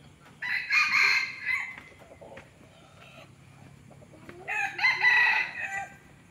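Two loud crows from a Thai jungle fowl rooster of the Nam Song type, one near the start and another near the end, separated by a quieter gap with faint background sounds.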